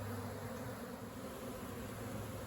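A honeybee swarm being tipped into a Layens hive on an April evening, giving a steady, dense buzzing drone from many bees close by, continuous and fairly even throughout with no talking.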